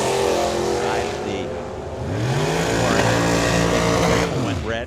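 Drag racing cars run side by side down the track at Firebird Motorsports Park, loud engines roaring close by with a sweeping pitch change as they pass, an announcer talking over the noise.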